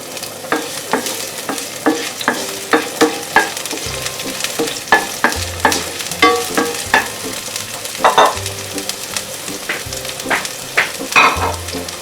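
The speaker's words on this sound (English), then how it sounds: "in your saucepan, add in about 2 to 3 tablespoons of vegetable oil or olive oil, some onions" Onions frying in vegetable or olive oil in a saucepan give a moderate sizzle under frequent sharp clacks and scrapes of stirring, with a faint low tone in the background.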